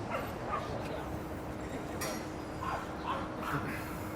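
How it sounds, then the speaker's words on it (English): Dogs give a few faint, scattered barks and yips on a cloudy Midtown Manhattan street, under ongoing talk and city background noise. "we got dogs over here"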